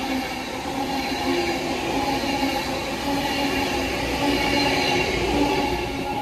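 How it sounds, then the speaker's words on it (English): An Avanti West Coast Alstom Pendolino class 390 train on a London Euston service passing, a loud, steady, continuous roar of wheels and rail with a faint high squeal, heard close and alone. "It's an Avanti West Coast service to London Euston."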